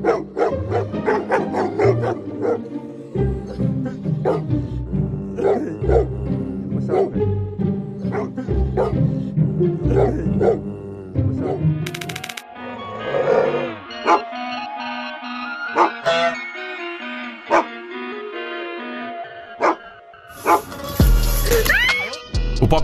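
A dog barks repeatedly in a domestic setting, loud and close in an irregular series of sharp woofs, later giving way to quieter whimpering and yelps with other noises toward the end.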